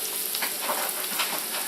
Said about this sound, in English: our carrots and broccoli are sauteed down